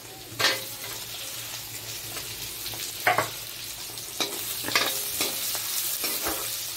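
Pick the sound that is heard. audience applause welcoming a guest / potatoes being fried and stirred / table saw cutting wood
potatoes being fried and stirred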